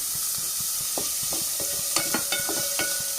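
Onions for a Kerala-style egg masala roasting in a pan with curry leaves and green chillies, a steady sizzle throughout with a few scraping stirs of the spoon near the end, close and fairly loud, no voices.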